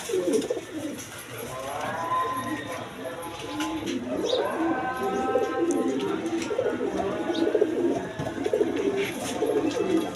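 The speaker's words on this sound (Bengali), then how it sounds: "দেখেন ডাক কারে কয় দেখেন এক হাতের কবুতর" A Gorra pigeon coos repeatedly up close in deep, rolling calls, with other pigeons murmuring around it and a voice talking intermittently underneath.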